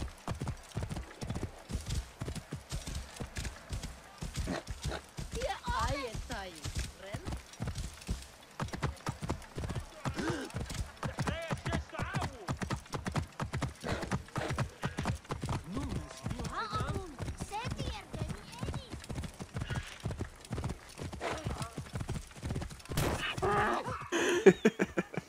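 A horse's hooves clip-clop rapidly and rhythmically at a steady trot in Assassin's Creed Origins, close and prominent, with a whinny near the end and someone talking over the hoofbeats.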